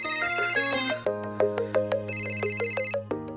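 A phone ringtone plays a bright electronic melody of repeating tones, loud and close, with no talking.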